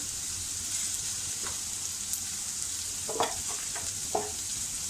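Potato filling for vada pav, seasoned with turmeric, sautés in a pan with a steady close sizzle throughout, broken by a few faint scrapes and taps of a spatula stirring it.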